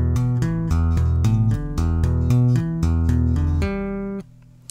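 Bass guitar playing a two-handed lick slowly, a steady sequence of clearly separated plucked and tapped notes ringing loud and close, ending on a sustained note that fades out.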